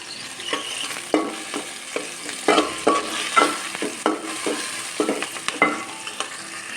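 Cauliflower frying in a pan with shrimp, onion and green chillies, a constant close sizzle punctuated by frequent scraping stir strokes at an uneven rhythm, with no voices.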